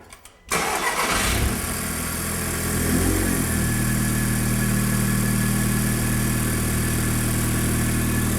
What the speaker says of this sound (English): So if we can start the vehicle.